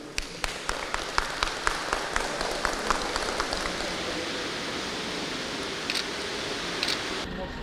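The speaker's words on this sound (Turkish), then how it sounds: "Kendinizi bir alkışlayın." Visitors at a municipal swimming pool clap for themselves, a brisk run of distinct claps over a wash of watery hiss for the first few seconds, then fading into steady splashing noise.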